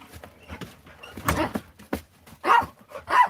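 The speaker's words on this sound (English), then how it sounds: "Crazy dog. Crazy dog." A dog barks in several sharp, separate bursts at close range, with short gaps of quiet and faint background noise between the barks.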